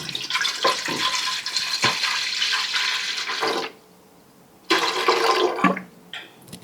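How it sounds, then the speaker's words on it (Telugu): Water gushes from a tap into a metal idli steamer pot in a home kitchen in two loud, splashing pours separated by a brief quiet pause, close up and without talking. "వాటర్ వేసుకుందాం."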